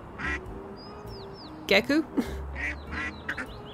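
Cartoonish duck quacks from the video game Little Kitty, Big City, a few short calls scattered through the clip, mixed with game sound effects and a brief spoken word.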